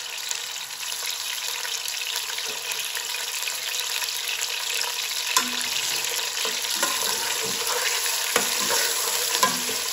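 Three bone-in chicken leg pieces fry in plenty of olive oil in a pot, a moderate continuous sizzle with several sharp spatters and light stirring knocks, heard close with no talk.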